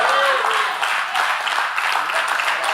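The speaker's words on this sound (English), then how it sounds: "Y'all clapping like I ain't said nothing." Church audience applause, a brief burst of dense clapping that fades slightly over a few seconds, with faint speech mixed in.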